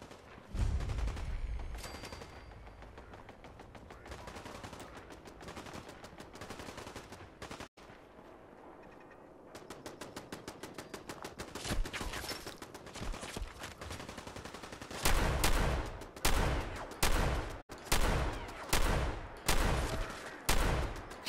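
Gunfire in the Fallout 4 video game: bursts of rapid shots and a sharp single crack, then a loud run of repeated heavy blasts in the last few seconds.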